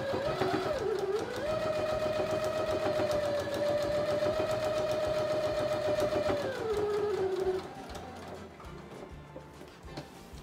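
A sewing machine stitches bias binding around the edge of a fabric wall hanging, a steady close mechanical whirr with a shift in pitch partway through before it eases off near the end.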